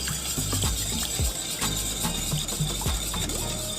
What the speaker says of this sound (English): while adding the oil you just have to continuously whisk the mixture